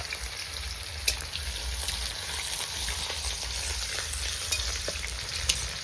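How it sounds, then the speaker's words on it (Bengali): Chopped onion frying in hot oil with whole cumin in a wok, a continuous close crackling sizzle with occasional soft stirring scrapes, no voices. "পেঁয়াজটা একটু বাদামি করে ভেজে নেবো"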